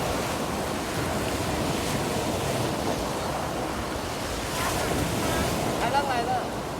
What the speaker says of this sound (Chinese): 海浪来了，